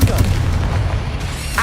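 Explosive Confringo and Bombarda spells going off in the Hogwarts Legacy video game, a run of heavy, deep booming blasts that overlap closely, with a voice present among them.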